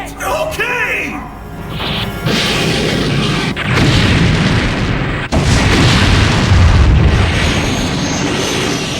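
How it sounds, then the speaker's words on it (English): A missile hits a spaceship bulkhead in an anime sound effect: loud heavy booms and crashing blasts, with a rumbling roar that swells and cuts back in over several seconds. "Kakazaki, fire a missile at the bulkhead"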